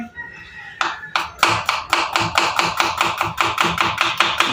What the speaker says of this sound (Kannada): ಇಲ್ಲಿ ಈರುಳ್ಳಿ ಕಟ್ ಮಾಡ್ತಾ ಇದ್ದೀನಿ